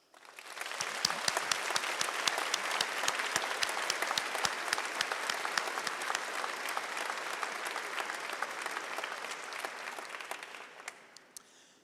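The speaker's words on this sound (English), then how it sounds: "So please join me in a round of applause to thank all those who have helped you through your studies" A large graduation ceremony audience at the University of Lincoln breaks into sustained applause: dense, roomy clapping with sharp individual claps rises quickly, holds steady for a long stretch, then tapers off.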